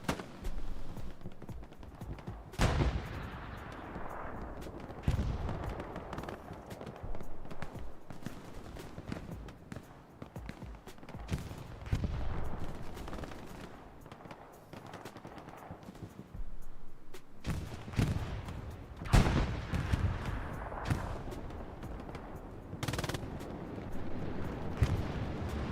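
Machine gun fire in Hell Let Loose during a competitive match on the Utah Beach map: sharp bursts and single cracks at intervals over a steady battlefield rumble, some close and loud, others more distant.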